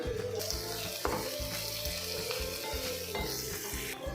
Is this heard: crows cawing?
no